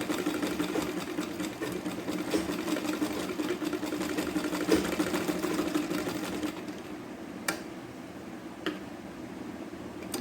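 Sewing machine stitching a latkan for a blouse, a steady close mechanical whir for about six seconds, then stopping, leaving a few faint clicks. No one speaks.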